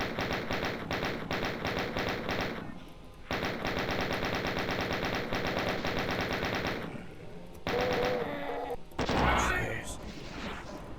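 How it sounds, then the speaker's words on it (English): Rapid chaingunner gunfire in Doom 2, map 'Port Fury': long, dense bursts of rapid-fire shots that stop and restart, loud and close, ending in heavier blasts and impacts. "I'm not gonna be mad about having to shoot chain gunners up there"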